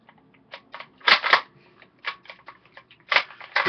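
A Remington 1903 rifle bolt, Mauser-style with a large extractor claw, is handled and taken apart: a series of sharp metallic clicks and snaps, some in quick pairs, close up and alone.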